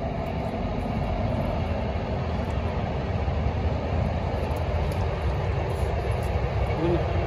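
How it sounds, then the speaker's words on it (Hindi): A train rumbles past, heard from inside a car on a road trip from Jammu to Delhi. A steady, loud, broadband roar runs through the whole stretch, without clear breaks. "ट्रेन आ गई"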